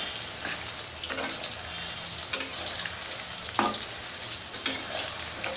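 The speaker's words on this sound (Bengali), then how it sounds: "এটা আমি পকোড়া করে ভাজতে থাকবো।" Boneless chicken pakoras for Bengali-style chilli chicken fry in hot oil, a dense continuous sizzle with occasional sharp spatter bursts and stirring scrapes, close and steady with no talking.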